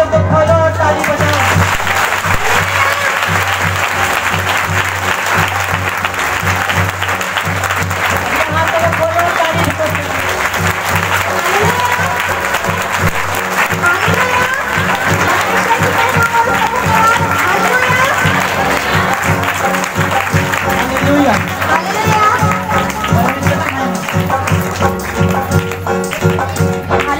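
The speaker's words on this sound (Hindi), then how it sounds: "अपने हाथों को खोलो और ताली बजाओ" A congregation at a Hindi Christian worship service claps along loudly and continuously for nearly half a minute, with a dense, rhythmic wash of hand claps under voices and music.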